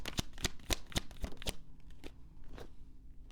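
Tarot cards are shuffled and drawn from the deck in a run of sharp, close riffling snaps for about a second and a half, then quieter sliding and a single later flick.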